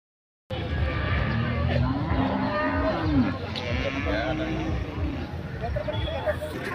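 At a Sunday cattle market in Anthiyur, cows low repeatedly in deep, drawn-out moos close by, overlapping with one another amid crowd murmur and people talking.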